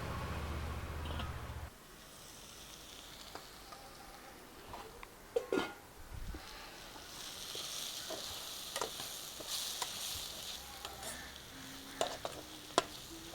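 Chopped tomato sizzles in a pan for a Kerala-style fried mussel roast. A steady, crackling fry hiss carries on throughout, with occasional clinks of a spoon stirring against the pan.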